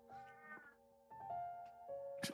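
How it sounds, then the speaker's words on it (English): A pet cat meows several times in short, close calls with pauses between them, heard alone in a quiet indoor room and ending with a brief sharp sound. "my cat is just vibing, I think."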